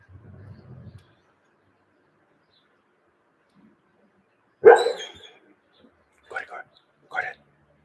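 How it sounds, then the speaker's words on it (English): A sleeping dog barks and whimpers while dreaming, giving one sharp muffled bark followed by two softer whimpering yelps in an otherwise quiet room, with a faint low murmur at the start. "He's chasing some dog in his dreams."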